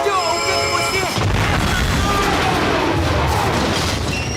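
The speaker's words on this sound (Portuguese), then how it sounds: "o trem bate na caminhonete, uma grande explosão rola" A train slams into a pickup truck in the film Super 8 and explodes in a deep, roaring blast after a brief tonal lead-in, followed by sustained rumbling crashes and debris noise, loud and dense.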